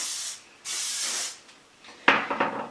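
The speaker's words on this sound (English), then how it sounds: "I'm just going to hairspray the curls" Garnier Fructis Full Control hairspray misted onto curls in three close hissing bursts, two short and one longer, then a sharper spray with faint rustling at the end.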